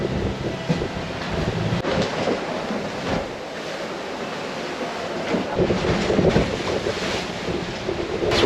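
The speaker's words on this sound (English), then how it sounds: "all the wind is blowing over the mountains" Strong wind buffeting a boat in the lee of St. Kitts, a loud continuous rushing roar with gusty swells and low rumble throughout, no talk.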